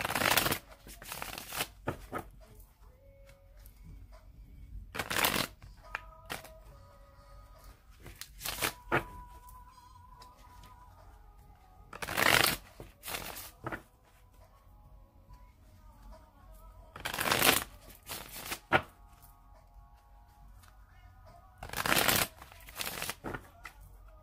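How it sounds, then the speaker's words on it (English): A tarot deck is shuffled in several separate bursts of quick riffling, each a few seconds long with quieter handling and faint background tones between them, close up. "Okay, so I'm going to shuffle it 3 more times."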